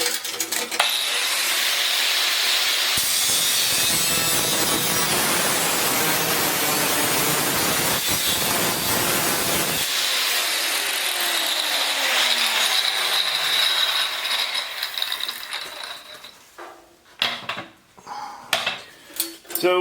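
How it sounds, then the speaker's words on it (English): A 4-inch angle grinder cutting through metal chimney pipe, a loud harsh screeching whine held for about fifteen seconds before the disc spins down, followed by clanks and handling noises. "I just use a 4-inch grinder."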